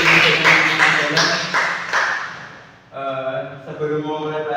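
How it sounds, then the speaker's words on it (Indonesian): Students clapping in a classroom during a microteaching lesson, a burst of sharp claps at close range that fades out, with voices talking afterward. "Tepuk tangan buat yang melakukan ujian-ujian."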